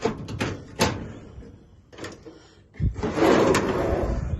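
Drawers in a van sliding open and shut, several sharp knocks and rattling slides in quick succession, then a longer scraping run of drawer movement, close and loud with no talk.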